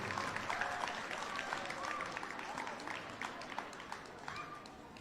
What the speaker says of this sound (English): If we could get a round of applause for that